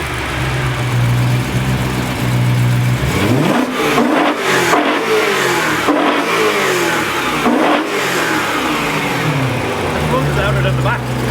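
A car engine revs hard several times in quick bursts, loud and close, with people talking over it.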